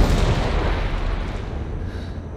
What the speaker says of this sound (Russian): Чё там взрывают-то?